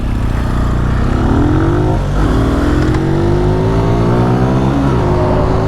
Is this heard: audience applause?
no